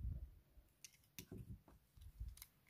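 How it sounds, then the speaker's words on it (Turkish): Scissors snip through thread while a piece is joined by hand, a few quiet, close metallic clicks and cuts in a short, sparse sequence. "Burada hemen ipimi kesiyorum."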